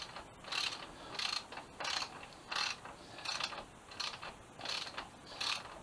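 A bolt is threaded and tightened on a homemade lift for a 2007 Suzuki GSX-R 750, giving a steady run of quiet ratcheting clicks in rhythmic bursts roughly every half second, close and with no talk.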